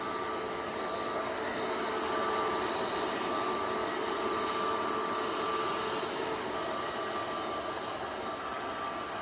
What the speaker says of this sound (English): Yep, EasyJet's A320 Neo.